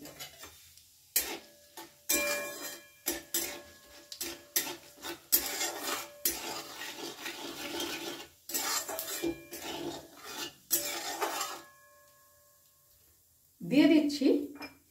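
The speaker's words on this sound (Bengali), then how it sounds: "ভাজা তেলের মধ্যেই আমি দিয়ে দিচ্ছি 2টো শুকনো লঙ্কা, আর দেব 1 চামচ মতন গোটা জিরে। ফোড়নটা কয়েক সেকেন্ড একটু নেড়ে নেব।" Dried red chillies and whole cumin seeds are stirred in hot oil for a tempering, giving intermittent scraping, rattling and crackling bursts of spoon against pan, loud then pausing, with a short voice near the end.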